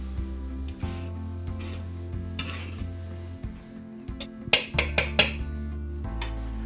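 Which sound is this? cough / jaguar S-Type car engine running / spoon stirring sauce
spoon stirring sauce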